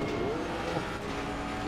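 A Ferrari race car in a racing game drones past, a steady engine whine with a slight pitch sweep over continuous background motor noise, moderately loud throughout.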